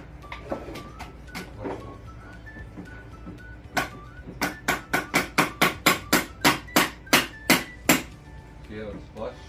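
A hammer taps on wood in a home woodworking session: a few scattered light knocks, then a quick steady run of about a dozen sharp, close strikes before it stops.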